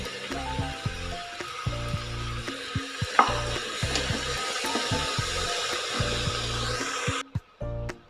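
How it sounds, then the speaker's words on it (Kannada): Snake gourd frying in an oil tempering for sambar sizzles steadily, with rhythmic scraping and stirring strokes of a spatula in the pan that stop abruptly near the end; no one speaks. "ಈ ಪಡವಲಕಾಯಿನೂ ಕೂಡ 1 ನಿಮಿಷ ಆ ಒಗ್ಗರಣೆಯಲ್ಲಿ ಫ್ರೈ ಮಾಡ್ಕೊಳ್ಳೋಣ"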